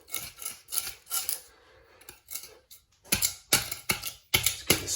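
Thinset mortar being scraped up from a floor during tile removal, a series of close, harsh rasping strokes in irregular bursts, growing louder and more rhythmic toward the end.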